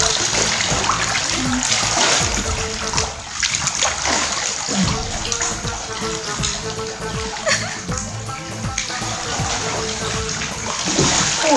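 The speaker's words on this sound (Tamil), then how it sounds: "ஓ, செம்மையா நீச்சல் அடிக்கிறீங்க." Water splashes and sloshes without a break as someone swims backstroke laps in a newly built home swimming pool. The churning is loud and close, with faint voices in the background.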